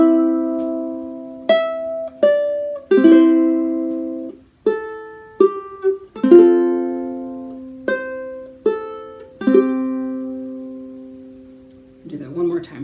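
A guitar plays a chord melody phrase from Wildwood Flower, about a dozen plucked notes and chords ringing out one after another at a slow, even pace, close and clear, with a brief fumbling sound at the end.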